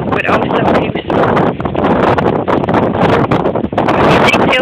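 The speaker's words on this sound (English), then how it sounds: "It's extremely windy out here" Strong wind at the beach buffets the microphone in a constant loud roar, with gusty rustling and a voice partly buried beneath it.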